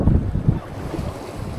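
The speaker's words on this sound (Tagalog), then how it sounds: "mag-stop ka naman sa lakas ng hangin" Strong gusting wind buffets the microphone on a fishing boat out on the water, heavy low roaring bursts at the start easing into steadier blustery noise.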